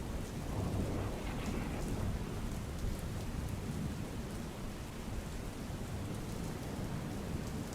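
Steady heavy rain pours down during a monsoon downpour in a Junagadh village, a dense, continuous hiss of drops on the ground and surfaces, loud and unbroken with no voices.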